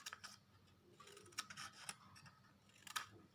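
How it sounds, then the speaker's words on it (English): Scissors cut paper for an origami bird in a quiet room, giving several soft, crisp snips and rustles spaced unevenly, close and faint. "And this small area we are going to cut it cross."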